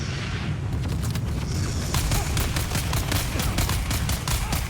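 Rapid video-game gunfire in a sandy sims-style game, a dense stream of loud close shots with booming low rumble, running continuously without talk.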